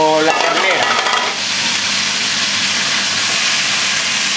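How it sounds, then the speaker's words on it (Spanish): Chicken and beef hit hot oil in a pan and burst into a loud, steady sizzle close by, while a voice talks at the start. "como ya tengo el aceite bien caliente, con cuidado de no quemaros, voy a echarle la carne, tanto el pollo como la ternera"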